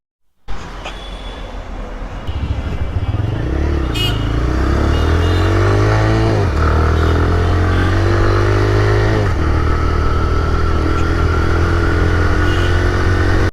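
A TVS Raider motorcycle engine runs close by in a steady, loud drone with slight revving swells and some clatter. Faint traffic and background voices can be heard.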